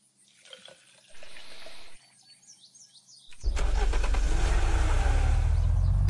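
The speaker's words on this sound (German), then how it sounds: "Die Autos so laut sind, das ist mir echt ein Rätsel." A car engine in the video game Unturned starts up loudly and roars steadily near the listener after a few seconds of quieter birdsong-like chirps and ambient game sounds.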